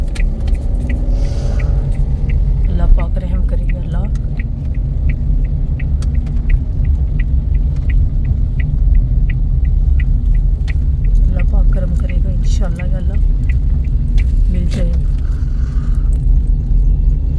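A car engine rumbles steadily from inside the cabin while driving along a road, a constant low drone with faint rattles and clicks, with people talking throughout.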